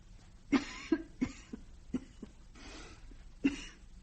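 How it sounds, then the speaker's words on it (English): A woman coughs several times in short, dry bursts spaced irregularly, close and fairly quiet, with faint breaths between them and no speech. "No, just a cough."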